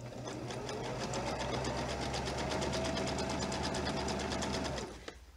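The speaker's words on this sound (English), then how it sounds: "on my machine it's a zigzag, and I have the length set at 2" A sewing machine runs a steady zigzag stitch at a short length setting, a fast even whir with rapid rhythmic ticking that continues close and loud for about five seconds, then stops abruptly.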